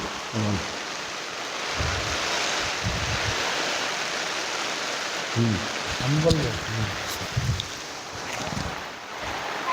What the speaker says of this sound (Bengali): হঠাৎ করে প্রকৃতির এই বৃষ্টির জন্য আমরা এখানে স্তব্ধ আছি তাবুর তলে আছি